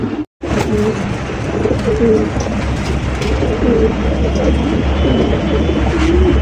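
Indian Kaldom pigeon at a pigeon seller's stall, cooing repeatedly in deep, rolling calls close by and fairly loud, over a steady low hum of background noise.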